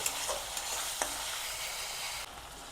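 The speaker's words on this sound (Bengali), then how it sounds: "এগুলো সব ভালো করে একটু পেঁয়াজের সঙ্গে আমি নেড়ে নিচ্ছি" Onions and spices stirred and frying in a pan for a rohu fish curry, a steady broadband sizzle with a few soft scraping strokes, close and continuous, no voices.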